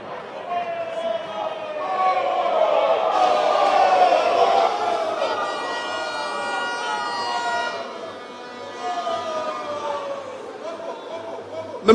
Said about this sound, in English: with a resounding round of applause, let's make welcome the Honorable Ejapa Mesa